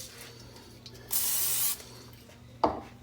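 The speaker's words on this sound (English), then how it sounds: "Gonna put a little" A single short hiss of non-stick cooking spray into a heated pan lasts about half a second, followed by a brief clatter, in an otherwise quiet room.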